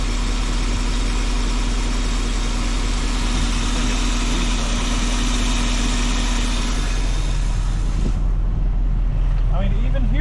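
A 1984 Jeep with a V8 engine idles close by with its muffler deleted, a steady low rumble and drone that runs throughout and changes character near the end.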